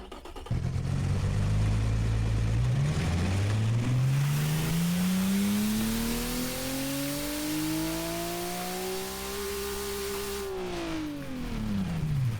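Simulated car engine from the Automation game, built for about 8,000 RPM and 513 horsepower, revs hard from idle, climbing steadily in pitch to a loud, buzzy peak before dropping back down, heard alone and close.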